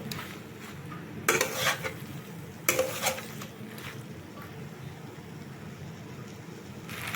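Masala spice paste stirred and fried in a pan for an okra and fish roe dish, with two bursts of scraping and clattering against the pan over a low, steady sizzle.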